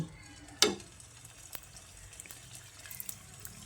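Egg and boiled potato snacks hit hot oil, giving a sharp splash and then a faint, steady sizzle with scattered small pops, quiet and close.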